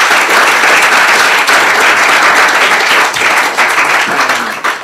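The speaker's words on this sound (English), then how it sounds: "give a very encouraging round of applause to our speakers" Sustained loud applause from a conference audience thanking the speakers after a series of talks, dense clapping that fills the whole span and eases slightly near the end.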